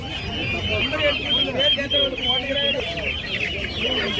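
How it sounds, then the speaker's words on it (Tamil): Several native chickens cluck and call together in a busy, close chorus at a weekly market in Pallavaram, Tamil Nadu, with people talking in the background. "எல்லாம் நாட்டுக்கோழி"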